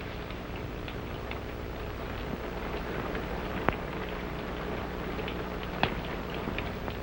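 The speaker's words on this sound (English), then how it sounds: "It's only the rain." Steady rain falls throughout, a dense even hiss with a few sharper drops standing out, no voices.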